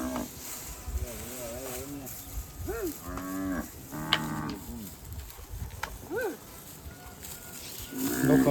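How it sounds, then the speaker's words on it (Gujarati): Several cows mooing in a village, with long, close, drawn-out moos repeating every second or so over outdoor background noise, and people talking nearby. "કેટલી ગાયો છે જો ખરા."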